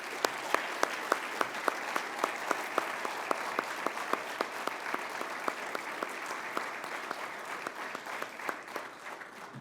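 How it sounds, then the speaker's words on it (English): Audience applause at a mayor's State of the City address, a broad wash of clapping from a sizeable crowd with one nearby clapper's sharp, regular claps standing out, continuing steadily throughout. "Please, one more round of applause."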